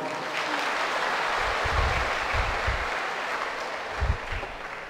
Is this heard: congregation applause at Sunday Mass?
yes